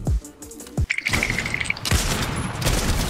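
Rapid Fortnite gunshots, several sharp booming reports in quick succession mixed with thuds and game effects, loud and close.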